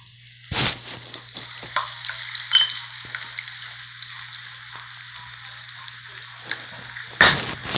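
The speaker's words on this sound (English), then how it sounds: "now I'm going to put the sauce in" Tomato and basil spaghetti sauce hits a hot pan, a loud splash and gush at the start, then a steady bright sizzle and frying hiss, with another stirring splash near the end; no talking.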